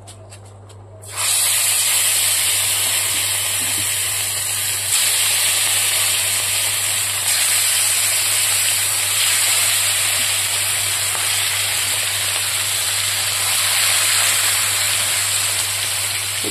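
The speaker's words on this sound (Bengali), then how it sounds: "দিয়ে দিলাম মাছ, এবার লাল লাল করে ভেজে নেব" Fish fries in a hot frying pan, a loud steady sizzle and hiss that starts abruptly and carries on unbroken, with a low hum beneath and no talking.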